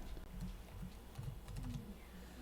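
Soft, rapid keystrokes on a computer keyboard come in a short irregular burst, close up but quiet, with a low steady hum underneath.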